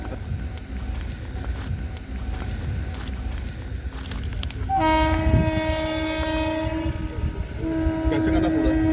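A train arrives at a railway station, its horn sounding in long sustained tones over the rumble of rolling cars and wind noise, loud and close, with the horn returning a second time.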